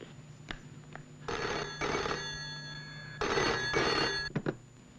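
A telephone ringback tone sounds in two long double-burst rings, clear and steady, with a couple of short clicks at the end.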